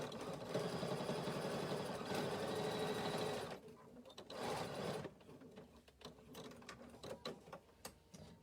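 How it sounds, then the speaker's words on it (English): Sewing machine stitching a 1/4 inch seam allowance through fabric and lining, a steady close whirring run for about three seconds, then brief bursts and scattered clicks and rustles of fabric handling. "stitching a 1/4 inch seam allowance"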